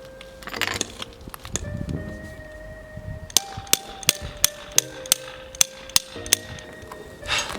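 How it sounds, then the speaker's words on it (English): A series of sharp metallic hammer strikes on a flathead screwdriver wedged behind an engine mount bracket on a Fiesta ST150 ring out in a steady rhythm, about a dozen blows, after some rattling and scraping of tools. "so I just got the hammer, wedged a flathead with an extension"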